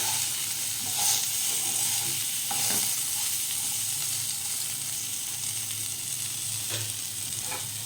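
Moong dal fries in a pan with salt and a little turmeric, giving a continuous close sizzle broken by occasional scrapes and taps of a spoon stirring, with no voices.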